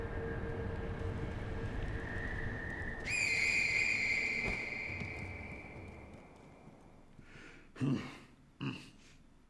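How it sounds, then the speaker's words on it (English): A finger whistle sounds in the video game Sekiro: a single sustained, bright, piercing whistle over a low ambient rumble, followed a few seconds later by a couple of short soft thumps. "Does it actually play a different sound instead of just a whistle?"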